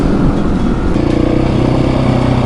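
A KTM 701 Supermoto with off-road tires is ridden at speed, near 100, into the wind. A loud, continuous roar of engine and rushing wind fills the whole stretch, with no talking.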